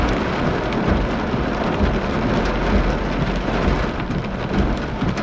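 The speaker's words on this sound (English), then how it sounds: "This thing quickly became high precip. It wasn't producing this much rain at first." Heavy, steady downpour from a severe high-precipitation thunderstorm, a loud dense roar of rain hitting surfaces throughout with low rumbling underneath, no voices.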